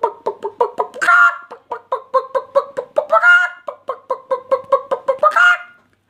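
A person imitates a hen clucking as she walks about normally: steady rhythmic short clucks broken by three louder drawn-out squawks, close and alone.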